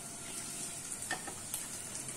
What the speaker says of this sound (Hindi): हम तेज करके गैस को हम अच्छी तरह से फ्राई करेंगे तभी ये फ्राई चिकन कहलाए